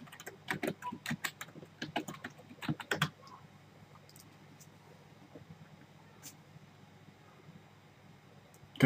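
Keys on a computer keyboard are tapped in a quick burst while entering a sudo password on Ubuntu Server, a cluster of close clicks over about three seconds, then quiet room hum and one later isolated tap.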